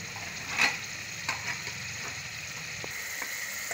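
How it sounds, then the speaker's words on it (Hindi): Taro root (arbi) frying in onion masala makes a steady close sizzle, broken by a few sharp stirring scrapes and clicks, with no talking. "भूनते हैं फिर मसाले डालते हैं"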